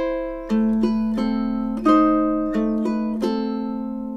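A ukulele plays two measures of a hauntingly beautiful classical piece, "A Little Flower": about seven plucked notes and chords ring out clearly and closely in a slow, even rhythm, each one decaying before the next, with no voices.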